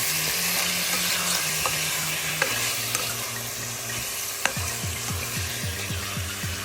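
Chicken pieces with salt get stirred in a hot pan for adobo with string beans, a continuous frying sizzle under repeated scraping and tapping strokes, with a low steady hum beneath.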